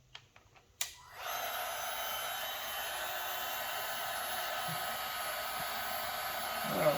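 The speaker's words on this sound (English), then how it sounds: "This is where your heat gun will be useful." After a few light clicks, a heat gun switches on with a sharp thump and settles into a steady, close airy roar, heat sealing craft foam for a cosplay torso, holding level for several seconds with no talking.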